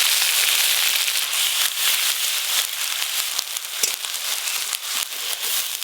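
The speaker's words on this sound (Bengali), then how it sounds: "সর্ষের তেল, দই সিলভার মাছ বানানোর জন্য এখানে এলাচ, গোটা জিরা, শুকনো লঙ্কা নিয়েছি, ফোড়নে দিয়ে দেব।" Cardamom, whole cumin and dried red chillies tempering in hot mustard oil for a yogurt silver carp curry, a steady loud crackling sizzle with scattered sharp pops throughout.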